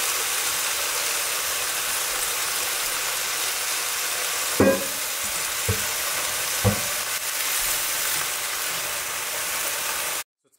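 Red amaranth leaves sizzle and fry in a pan, a steady broad hiss running throughout, broken by a few soft knocks of stirring or the utensil tapping the pan, with no voices.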